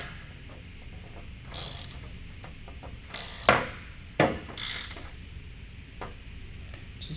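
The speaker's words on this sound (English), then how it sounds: "I'm just having my hand here at the end of the ratchet, so I'll never torque this." A ratchet tightens bolts on the bumper of an OBS Chevy truck, giving short bursts of rapid clicking pawl ticks with pauses between strokes, close by and moderately loud, with no talking.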